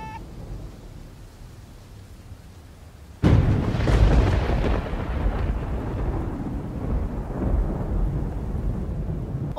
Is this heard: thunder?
yes